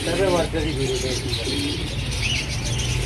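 Pigeons of various breeds coo in a loft, low rolling coos repeating near the start and continuing under talking voices.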